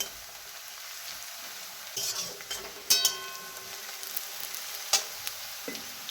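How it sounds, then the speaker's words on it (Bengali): Onions fry to golden in a pan for a chicken dish, a steady close sizzle with a few stirring scrapes and light clinks of a spoon against the pan, and no voices. "পেঁয়াজ দেখুন ফ্রাই হয়ে এসেছে, গোল্ডেন কালার হয়ে গেছে"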